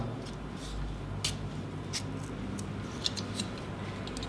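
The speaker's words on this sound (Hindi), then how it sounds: "अब मैं इस आलू को काट के आपको दिखाता हूं।" A knife slices a seed potato into pieces for planting at home, giving a handful of crisp, separate cutting clicks spaced irregularly over a quiet background.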